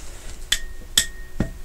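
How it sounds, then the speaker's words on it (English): Three sharp metallic hammer strikes on a bolt being driven flush into concrete, evenly spaced about half a second apart, close and fairly loud with ringing overtones. "and hammer it in till it is flush"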